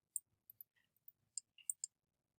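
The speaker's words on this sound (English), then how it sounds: "I'm going to have to click over here." Quiet, crisp computer mouse clicks sound while drawing in Photoshop, coming as scattered single and double clicks at an uneven pace, close and isolated over near silence.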